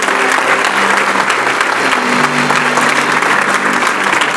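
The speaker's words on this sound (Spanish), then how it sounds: "Dale un aplauso." A church congregation applauds steadily after a closing prayer, a dense sustained wash of many hands clapping, fairly loud and close, with some crowd murmur underneath.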